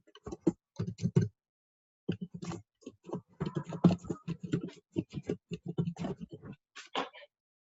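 An SQL query is typed on a computer keyboard, heard as close, crisp keystrokes in rapid irregular bursts with short pauses between runs, no voice over them.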